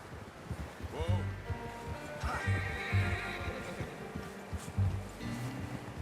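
A horse in the game Red Dead Redemption 2 whinnies and snorts up close while hooves clip-clop at a walking pace, with a voice speaking briefly over the movement.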